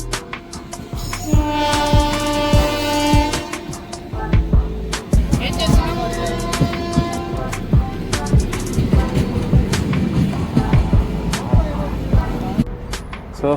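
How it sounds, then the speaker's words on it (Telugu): A train pulls into a station, rumbling and clattering up close with squealing wheels and sharp clanks, under a busy platform hubbub with faint voices. "వచ్చేసింది మన ట్రైన్"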